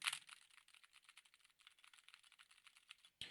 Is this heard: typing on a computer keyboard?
yes